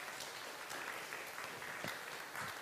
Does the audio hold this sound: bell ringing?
no